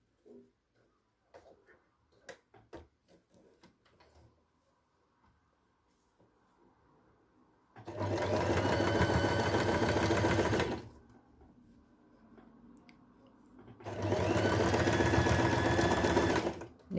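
Sewing machine stitching a row of quilt patchwork, running in two steady, loud bursts of about three seconds each, separated by a pause with faint handling noises and no talk.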